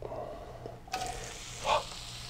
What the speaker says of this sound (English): I know you heard that sizzle